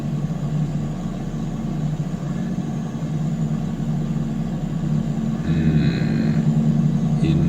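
Lorry tanker driving in a farming simulator game, a constant low engine drone with a steady hum and faint higher whine, holding level and briefly thickening near the end, no talking.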